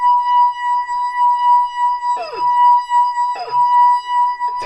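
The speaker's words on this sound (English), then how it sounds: "if I dip my finger into the water and put it on the edge of the glass" A wet finger circles the rim of a nearly full, water-filled wine glass, drawing a steady, sustained pure ringing tone throughout, with two brief scuffing squeaks partway through.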